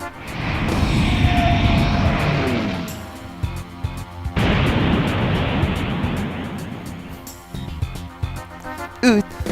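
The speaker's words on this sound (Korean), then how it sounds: "저건 비행기가 이쪽으로 떨어지고 있어." A falling airplane roars in the PS1 game Super Robot Wars Alpha, its engine howling loud and near for several seconds, surging again and breaking into rumbling crash noise and sharp effects.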